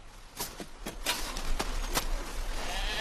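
Sheep bleat in snowy conditions, several short calls in an irregular series over a steady windy background, moderately close and fairly loud.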